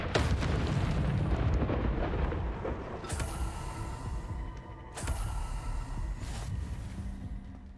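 In the Hogwarts Legacy video game, the Confringo blasting spell sets off a deep rumbling explosion that fades, followed by two sharp cracking bursts and a lingering low roar.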